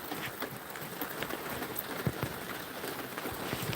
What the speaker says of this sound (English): Oh, come on, make it stop raining.